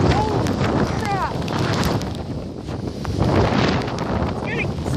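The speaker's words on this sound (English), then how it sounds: "It's getting super windy, guys." Gusty thunderstorm wind buffets the microphone in heavy, continuous rushes, loud and close, with brief faint chirps in the background.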